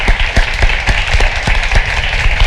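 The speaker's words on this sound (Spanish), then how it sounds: "que también un aplauso a ellos" An audience applauds with brisk, even clapping that stays loud and steady for a couple of seconds, without any voices.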